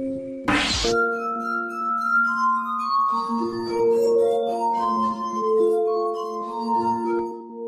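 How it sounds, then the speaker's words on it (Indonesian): A glass harmonica plays slow, ringing, sustained glassy tones that glide between pitches and overlap into soft chords, opening with a short bright strike, close and clear with no talking. "Instrumen musik lainnya adalah gelas harmonika atau harmonika kaca."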